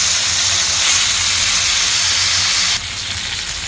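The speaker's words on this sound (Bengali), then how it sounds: "তো একসাথে সবগুলো মাছ আমি ফ্রাই করে নিচ্ছি।" Several fish fry together in a large frying pan, giving a loud, continuous close-up sizzle and hiss that drops slightly in intensity near the end, with no voices.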